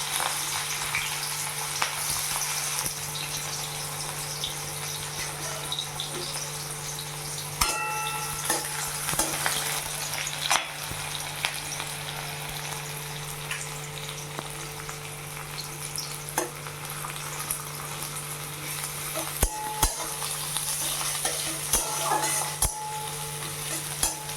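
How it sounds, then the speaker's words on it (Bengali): Onions frying in hot oil in a kadai for hilsa fish curry, a continuous close sizzle with occasional faint clicks and stirring taps, no talk. "তো এখন পেঁয়াজটা ভালো করে ভেজে দেওয়া হবে"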